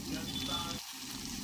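Ground ridge gourd peel chutney goes into a hot oil tempering with turmeric, a continuous close sizzle that briefly dips as the paste lands, with no speech.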